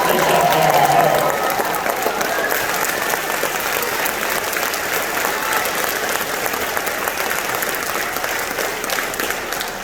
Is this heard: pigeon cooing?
no